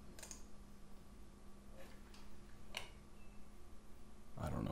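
A few scattered keystrokes on a computer keyboard while searching inside ArchiCAD software, soft and sparse clicks over a quiet room hum, with a slightly denser burst of taps at the end.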